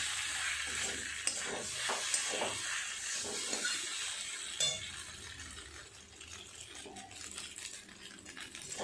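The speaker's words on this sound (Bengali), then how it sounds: "খুব ভালো করে সমস্ত কিছু একটু মিশিয়ে এইভাবে কড়াই নেড়ে নিলাম।" Pasta being stirred in a kadai, with scraping, rattling strokes of the spoon against the metal over a soft sizzle and hiss, louder in the first half and then quieter.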